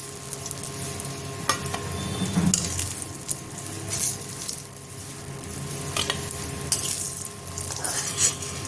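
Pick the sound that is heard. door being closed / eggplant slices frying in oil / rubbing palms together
eggplant slices frying in oil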